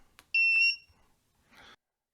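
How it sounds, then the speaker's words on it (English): A breadboard-built ultrasonic distance alarm gives a single short, sharp electronic beep with a high tone. Faint clicks come before it, and a brief burst of noise follows it. "There is one last way to activate the alarm."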